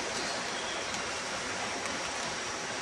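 A stream runs through thick jungle in Tenorio park, Costa Rica, giving a steady broadband rush of flowing water, close and constant, with no talking.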